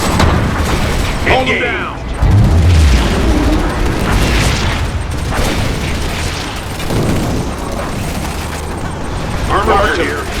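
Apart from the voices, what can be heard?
bombing run explosions in Command & Conquer 3: Kane's Wrath video game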